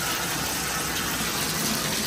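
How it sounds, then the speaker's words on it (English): A hotel room shower at a resort runs steadily, a constant broadband hiss of falling water with no pauses or voices. "I was gonna turn on the shower"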